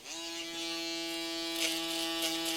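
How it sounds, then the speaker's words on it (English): An electric foil shaver trims a beard low on the neck as a haircut is finished, giving a steady, close, unbroken buzz with no talking. "Finish off with our foil shaver down low."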